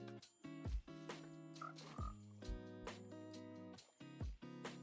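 A frog in Minecraft croaks again and again in an uneven rhythm, each croak deep and throaty and clear against a quiet background, with no talking over it.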